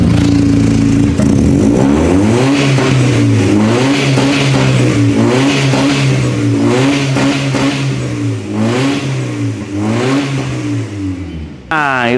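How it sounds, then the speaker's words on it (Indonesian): A Mercedes-Benz W202 C230 with an inline-six engine and dual exhaust revs repeatedly, rising and falling in loud, close bursts with a somewhat raspy tone. "Dan suaranya kan inline six tuh, lucu sih suaranya."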